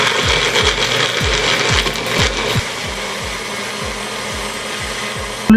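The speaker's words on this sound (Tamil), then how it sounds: "இப்போ இதையும் மூடி போட்டு நல்லா கிரைண்ட் பண்ணி எடுப்போம்." Blender grinding ice with a closed lid for a summer milkshake or slushy, a steady whirring roar with a regular knocking rhythm of ice chunks striking the jar, loud and close throughout with no talking.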